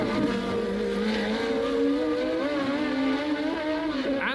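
Formula 1 race cars from 1983, a Ferrari among them, screaming around the Detroit Grand Prix street circuit: a sustained, loud high-revving engine whine with shifting pitch, steady throughout, no talk.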